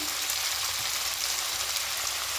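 Onion and tomato fry in a pan for a Bengali katla fish recipe, making a steady, close hiss and sizzle that stays at an even level throughout, with no voices.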